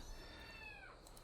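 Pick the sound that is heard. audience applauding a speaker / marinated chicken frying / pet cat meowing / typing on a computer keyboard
pet cat meowing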